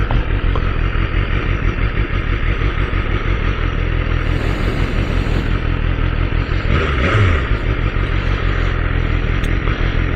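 Steady, loud engine and exhaust roar from a BMW S1000RR motorcycle while riding, a continuous dense drone with wind rush throughout and no talking.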